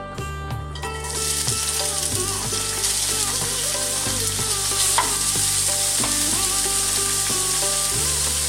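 Onions hit hot sunflower oil in a pan and sizzle loudly and continuously, with scraping stirs now and then over a faint tonal background.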